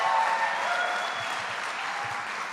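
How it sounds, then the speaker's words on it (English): Applause from a crowd at a political rally stop for a $15 minimum wage campaign in Central New York, a steady even wash of clapping at moderate loudness, brief and uninterrupted. "let's give a big round of applause to Greg Lancet"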